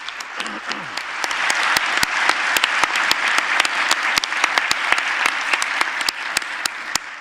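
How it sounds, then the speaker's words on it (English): Sustained applause from a conference audience, dense steady clapping at moderate loudness lasting throughout, with no speech over it. "So let's give applause to her also."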